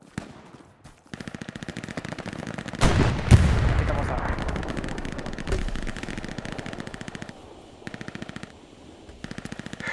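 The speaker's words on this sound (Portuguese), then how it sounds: "tá atirando aqui" Rapid machine-gun fire in the World War II shooter Hell Let Loose, long rattling automatic bursts with a heavy blast and rumble in the middle, loud and close, with bursts continuing to the end.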